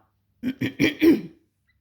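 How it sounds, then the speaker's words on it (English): Four quick, close coughs in a row, short and raspy, with silence before and after. "excuse me there for coughing"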